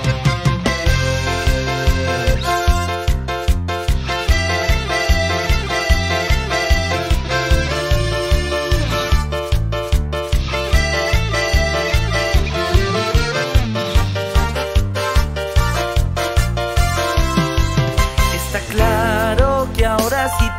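Folk music played by a quartet from the Argentine north. It is a rhythmic ensemble piece with a steady pulsing beat and melodic lines, played continuously at full level with no talking.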